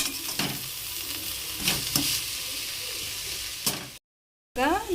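Drumstick leaves sizzle and fry in a pan for egg bhurji, with steady crackling and a few scraping stirs, close up. A brief silent gap comes near the end before the frying resumes.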